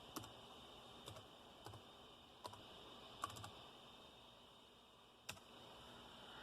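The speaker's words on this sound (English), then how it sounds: "Let me type in WinVer." Keys on a Dell Inspiron 6000 laptop keyboard click faintly in a short, sparse series of separate presses against a quiet background hiss.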